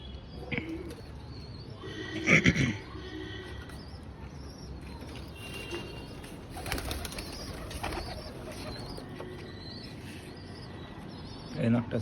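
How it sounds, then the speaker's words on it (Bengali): Rooftop pigeons coo softly and intermittently among chirps, with a few louder bursts of calls and wing or body movement. Faint background voices and mechanical noise run underneath. "এই যে পায়রা"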